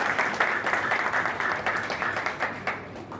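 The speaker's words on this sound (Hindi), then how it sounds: "एक बार जोरदार ताली बजा के उनका हौसला जरूर करें।" Audience applause at a political gathering, a continuous crowd of hands clapping with uneven bursts, moderately loud and sustained across the moment.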